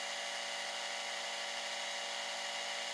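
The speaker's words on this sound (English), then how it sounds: "So the drill wants to move in, let it move in." A drill runs with a continuous, even high-pitched whine, steady and moderately faint throughout, with no talking.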